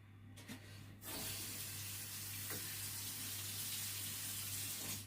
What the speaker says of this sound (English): we add a little bit of water because understandably, our cake is going to be baking for a little longer